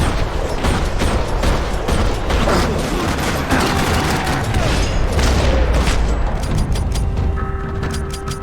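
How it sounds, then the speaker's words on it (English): Dense, continuous gunfire rattles throughout with booming impacts in a parking lot shootout in the video game Max Payne 3, loud and chaotic, with a few tonal electronic beeps toward the end. "Another parking lot rattling with gunfire."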